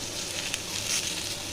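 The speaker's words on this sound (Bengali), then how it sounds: "আর একটু আমটাকে আমি এইভাবে একটু ভেজে দেবো।" Pieces of tender raw mango fry briefly in a pan, giving a steady, close sizzle with light crackling and no talk.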